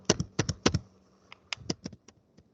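Quick bursts of keystrokes on a computer keyboard while entering a PowerShell command on a Windows PC, close and clear, with irregular clicks and short pauses between them.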